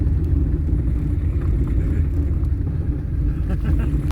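Steady low rumble of a hybrid car driving along a farmland road, heard from inside the cabin, continuous and even throughout with faint road noise and no clear voices.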